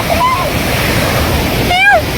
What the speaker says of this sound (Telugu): water fall